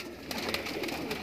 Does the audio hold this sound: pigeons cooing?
yes